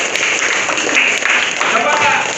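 Children in a class quiz clapping together, a dense steady burst of applause over a faint voice.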